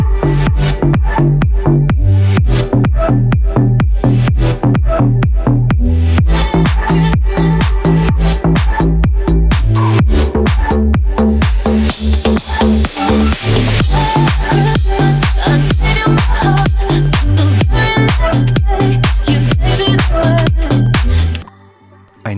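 Deep house remix of a Christmas song, a loud, continuous track with a steady four-on-the-floor kick and bass throughout, a brighter build in the middle, and an abrupt stop at the end.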